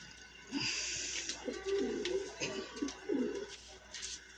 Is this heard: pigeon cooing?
yes